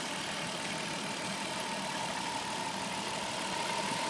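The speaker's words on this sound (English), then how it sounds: "Nice smooth operating engine." A Voyager's engine idle hums evenly at a constant, moderate level, with a faint tonal whine running through it and no voices.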